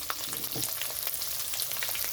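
Onion dropped into hot oil with ginger and garlic, a loud, dense, continuous sizzle with crackling pops and occasional stirring, close up and steady.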